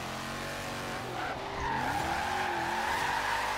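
Tires squeal steadily as a drift truck slides sideways in the Forza Horizon 3 racing game, a loud continuous screech over engine drone, rising in pitch partway through.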